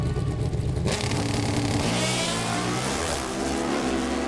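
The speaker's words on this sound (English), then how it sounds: "The 4-valve Suzuki, the V-twin engine for Matt Smith" A 4-valve Suzuki V-twin drag racing motorcycle engine roars loudly, a sharp harsh onset followed by rising, rasping revs during a drag race.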